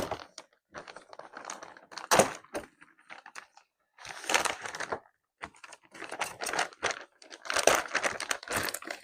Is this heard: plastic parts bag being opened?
yes